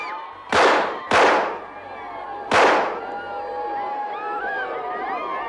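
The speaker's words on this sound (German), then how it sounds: "Mahatma Gandhi wird von drei Schüssen getroffen und sinkt blutend zu Boden." Three sharp pistol gunshots ring out close and loud in a dramatized documentary scene, two in quick succession and a third after a short pause, each followed by a brief decay over a murmuring crowd.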